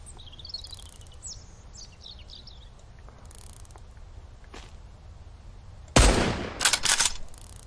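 Birds chirp faintly over quiet ambience in Mist Survival, then a loud close gunshot lands suddenly near the end, followed by a few quick further shots and reports.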